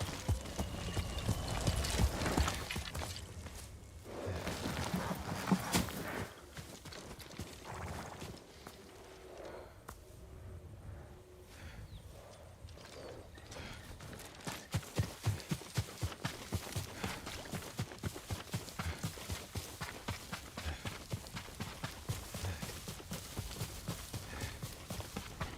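Horse hooves clip-clop steadily at a walking pace in Ghost of Tsushima, fairly close, over a low ambient game soundscape with occasional quieter stretches.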